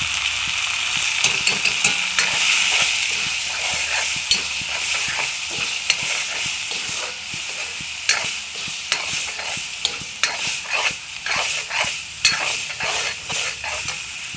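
Bottle gourd leaves with spices and water simmer in a pan, giving a steady sizzling hiss broken by clicks and scrapes of stirring. No one speaks.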